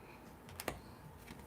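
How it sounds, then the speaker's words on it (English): Tarot cards being shuffled, faint soft riffling with a couple of quick crisp flicks over quiet room noise, no speech. "Y'all see me shuffle."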